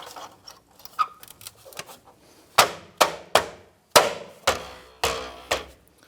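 Plastic wheel cap pressed and tapped into place on a Nissan Rogue wheel, a series of sharp knocks that grow into about seven evenly spaced hard taps, loud and close.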